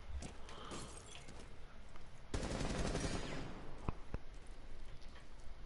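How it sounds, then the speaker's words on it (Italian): A sharp burst of rapid gunfire in the video game Rainbow Six Siege erupts partway through, dense and loud, followed by scattered single shots against a busy background. "Ma chi cazzo spari, Marco?"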